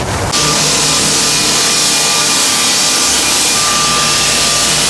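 Power saw cutting wood pieces for a floor repair, a loud continuous whine with a steady high tone, starting abruptly and running alone at full volume without pause.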